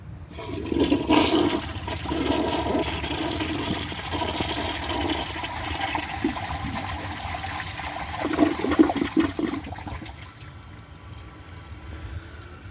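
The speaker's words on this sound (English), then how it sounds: "So let's give it a flush and do the tests." A 1987 Kilgore toilet fitted with a 1976 Kilgore flapper flushes with a loud, close, gurgling rush of draining water. The gurgle swells again near the end, then cuts off into a quieter trickle of refill.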